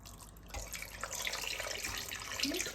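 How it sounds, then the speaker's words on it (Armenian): Chicken breast pieces being washed under a running kitchen tap, with a steady stream of water splashing into the sink that starts abruptly and continues close and clear. "Հիմա կլվանամ հոսող ջրի տակ"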